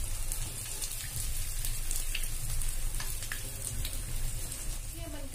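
Aloo tikki fry in a pan with a dense, steady oil sizzle and crackle, close and continuous, with faint scraping and no voices.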